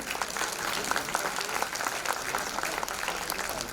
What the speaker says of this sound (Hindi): यूसुफ और इनके लिए थोड़ी जोर से ताली बजाइए।